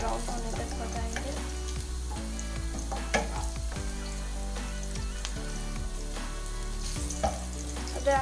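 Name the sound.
frying chicken with garlic ginger paste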